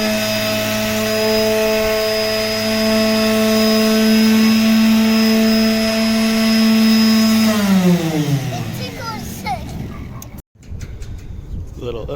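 Loud steady whine of a power sander removing old coating from a driver-over-fender trailer during a refurbish, holding a constant pitch before winding down and cutting off near the end.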